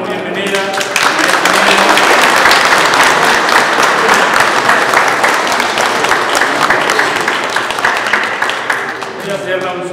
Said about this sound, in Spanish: un aplauso por bienvenida.